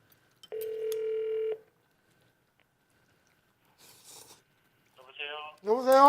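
A phone call is placed on a landline: one steady dial tone, then a pause and quiet handset clicks. A voice answers on the line near the end.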